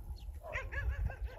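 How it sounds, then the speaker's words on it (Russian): Dogs bark and yip in the distance in the hilly village of Katyushkina, Khakassia, faint but repeated, over low wind rumble outdoors. "Собаки вон лают."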